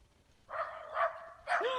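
A dog in The Eerie Hours video game gives a few short barks, two close together then a sharper third, fairly clear against a quiet background.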